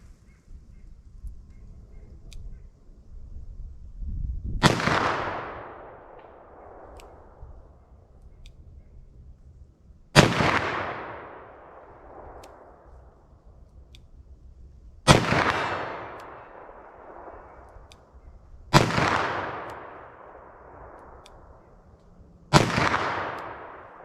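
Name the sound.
357 Magnum revolver shots, Winchester Defender rounds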